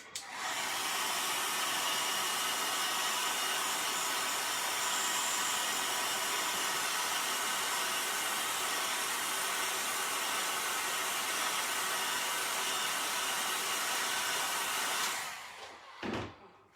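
A hair dryer blows on a small chalk-painted mini piece, a loud steady whooshing hum running unbroken for about fifteen seconds before switching off and winding down.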